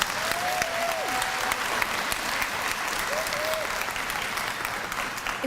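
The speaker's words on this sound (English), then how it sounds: "One more round of applause for all of our elementary students." Audience applause for elementary school students at a Gold Key student awards ceremony, continuous even clapping filling the room, with a few faint whistles or voices over it.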